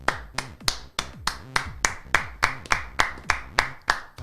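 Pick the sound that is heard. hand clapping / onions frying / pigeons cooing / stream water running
hand clapping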